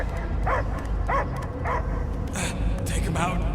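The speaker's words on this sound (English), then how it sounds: "I hear only barking." Dog barking in Marvel's Guardians of the Galaxy game, a series of short yips and barks in a regular rhythm over a loud rumbling background, with a voice speaking near the end.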